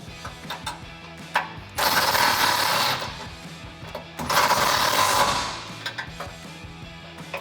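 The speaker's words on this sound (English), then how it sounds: "Now for the bolt head side, I'm going to be using an 18mm socket" An 18mm socket on a ratchet tightening the rear bumper bolts of a 2016-2020 Toyota Tacoma, heard as two sustained bursts of rapid clicking, each about a second long, with quiet tool clicks in between.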